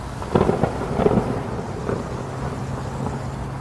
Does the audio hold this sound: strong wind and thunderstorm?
yes